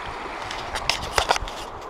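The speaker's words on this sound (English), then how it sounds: "River Feshie flowing down past the stones." The River Feshie near Kincraig rushes past stones in a steady, soft broadband flow, with a few brief sharp crunches and knocks close by near the middle.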